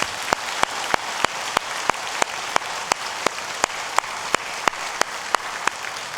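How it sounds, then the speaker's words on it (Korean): A church congregation claps for its young people, a steady rhythm of sharp, evenly spaced claps about three per second, close and fairly loud over a soft rushing background, with no talking. "우리 어른들이 우리 청년들 박수로 격려하겠습니다."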